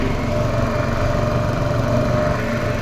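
A loud, close drone from a motor boat's engine running on the Krishna river, its buzzing hum steady and unbroken for a few seconds.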